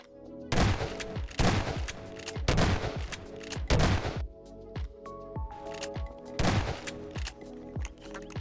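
A shotgun fires in Garry's Mod, about six loud, close blasts spaced roughly a second apart in two groups, each a sharp crack trailing into a short rattling decay. No one speaks.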